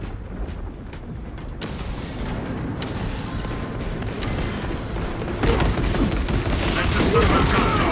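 Servo gun firing in the video game Space Marine 2, a steady rattling barrage that builds louder over several seconds amid mechanical clanks and battle noise.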